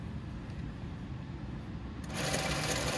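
A sewing machine stitches a shirt cuff with the needle running in a steady, close mechanical whir, picking up to a louder, brighter, faster run partway through.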